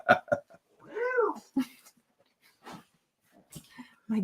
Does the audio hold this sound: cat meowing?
yes